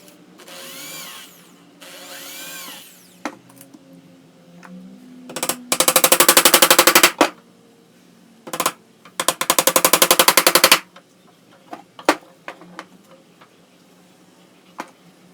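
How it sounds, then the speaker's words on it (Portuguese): Power drill whirring in two loud sustained bursts into recycled pallet wood while building a shoe rack, with sharp nail taps and scattered knocks between them, close up with no talking. "fura e prega"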